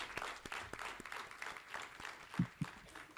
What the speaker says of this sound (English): They deserve a bigger round of applause.